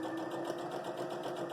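A home sewing machine hums at a steady, even speed while basting a trimmed fabric triangle for a flying geese quilt block, a continuous close whir with no pauses.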